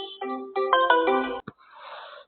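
A phone ringtone rings out during an online class, playing a clear, bright electronic melody of stepped tones for over a second before it is cut off abruptly. A faint murmur follows.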